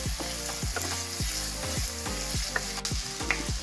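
Chopped onion and tomatoes sizzle in a hot pan while a spoon stirs and scrapes in steady, repeated strokes, close and continuous with no talking.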